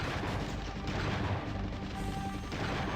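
Shotgun blasts and loud explosive game action from the N64 game Army Men: Sarge's Heroes 2, a dense continuous roar of gunfire across the whole stretch with no talking.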